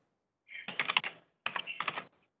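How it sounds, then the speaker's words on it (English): Two short bursts of rapid keyboard typing, quiet and close, separated by a brief pause, from a remote caller's open microphone during a city council committee meeting. "I hear typing"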